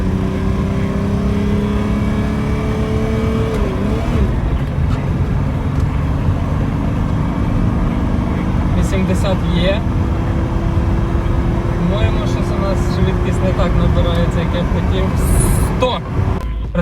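Engine of a tuned BMW E28 droning from inside the car as it accelerates toward 100 km/h, a loud sustained rising tone with shifts, under speech from the occupants.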